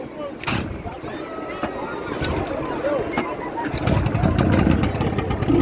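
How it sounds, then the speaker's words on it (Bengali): A boat's engine catches and starts up near New Digha, settling into a steady low rumble that swells over the last couple of seconds while people talk and chatter around it. "বোটের ইঞ্জিন স্টার্ট হয়ে গেছে।"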